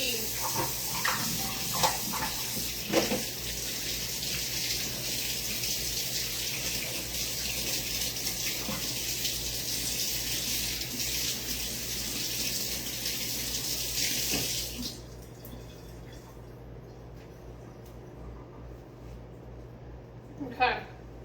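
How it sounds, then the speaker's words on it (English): Water from a kitchen tap runs steadily with a broad hiss while hands are washed at the sink, continuing for about fifteen seconds before the flow stops and leaves quiet room sound with a few small clinks. "Let me wash my hands again"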